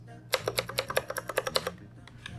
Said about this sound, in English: I have this Year of the Dog Edition Ducky keyboard. And mine has the Cherry MX blue switches.